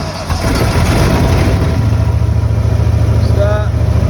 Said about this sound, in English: Start, that's just idling.